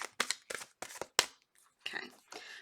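Quick papery slaps and riffles of tarot cards being shuffled, several sharp bursts in a row, then softer sliding rustles, close up.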